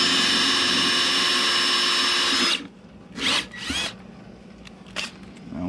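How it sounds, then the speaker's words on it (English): A power drill whirs loudly and steadily for a couple of seconds while drilling a hole during a boat depth finder install, then stops, leaving short bursts of handling and clicks. "I'm gonna drill that one real quick."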